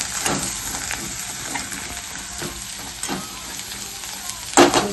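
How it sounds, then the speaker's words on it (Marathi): Steady sizzling of an onion and tomato spice paste sautéing in a pan, with occasional scraping stirs and a sharper clatter near the end, close and fairly loud. "आता ते छान परतून घेते अगोदर मस्तपैकी परतून घेते"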